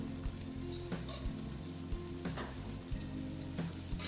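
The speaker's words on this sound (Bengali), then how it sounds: "চিনি দিয়ে তারপরে আবার একটু আবার নেড়ে চেড়ে নিচ্ছি" Long beans being stirred with a little sugar in a pan as they cook, a soft continuous sizzle with intermittent scraping stirs and light knocks, fairly quiet and without talk.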